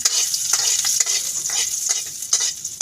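Onion and garlic fry in a hot wok, a steady bright sizzle with repeated scraping stirs throughout, close and fairly loud with no voices.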